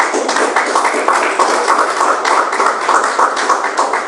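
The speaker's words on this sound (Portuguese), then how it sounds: "Palmas para Jesus, amado." A church congregation claps steadily together, a loud, dense and continuous round of applause filling the room with no talking over it.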